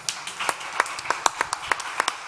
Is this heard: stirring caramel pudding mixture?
no